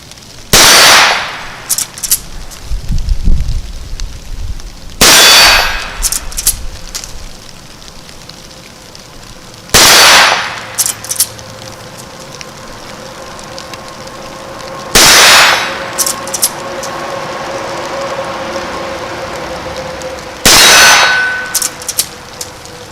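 Henry Golden Boy Silver .17 HMR rifle firing at steel targets, five sharp loud cracks spaced about five seconds apart, each followed by a ringing metallic clang and short echo.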